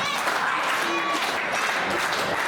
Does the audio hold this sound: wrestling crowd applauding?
yes